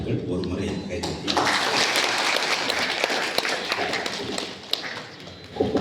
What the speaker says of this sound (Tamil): ஒரு முறை கைதட்டி.